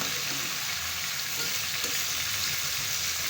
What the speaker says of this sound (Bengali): এই মাছটা আমার ভাজতে পাঁচ মিনিটের মতন সময় লাগবে